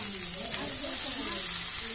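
Pre-fried snails going into frying masala for an Indian snail curry, a continuous close sizzle with soft stirring scrapes underneath and no voices.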